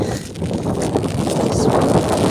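Strong wind gusts across Bodmin Moor in Cornwall during winter rain, a loud continuous buffeting roar with rumbling bursts and no voices.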